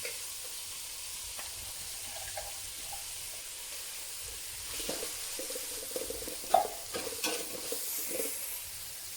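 Chopped tomatoes sauté in a pan with a soft, low sizzle and occasional stirring scrapes that grow a little louder and clattery in the second half, nobody speaking.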